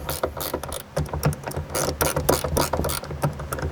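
A ratchet snugs bolts during a gear build-out on a Jeep Wrangler JKU Rubicon while cubby tops are fitted. Rapid, close pawl clicking comes in quick bursts, with no voices.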